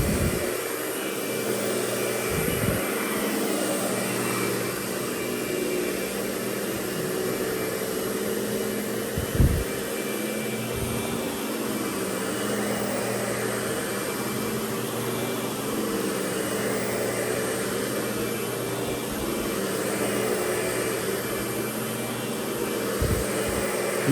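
A Lindhaus Diamante 300 El vacuum cleaner runs across old, matted hallway carpet, its motor giving a steady, close, whining roar with occasional soft bumps as it moves, and no voices.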